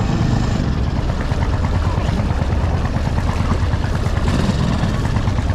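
A lobster-fishing boat with two motors runs at a steady drone, a loud, continuous throbbing rumble with a rapid pulsing beat.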